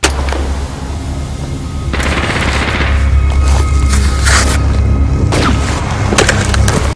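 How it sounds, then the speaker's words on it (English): Machine gun fire from a war movie comes in short controlled bursts, loud and sharp over a dense rumbling battle background with scattered cracking impacts and no voices. "we see the use of nice, short, controlled bursts so you don't get the weapon hopping around too much"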